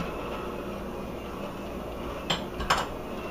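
Cake batter with baking soda and cinnamon is mixed in a bowl: a faint steady background hum, then two or three brief utensil clinks and scrapes near the end.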